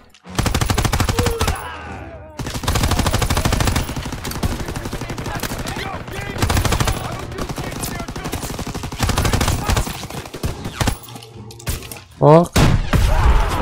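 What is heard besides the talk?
gunfire in the video game Call of Duty: WWII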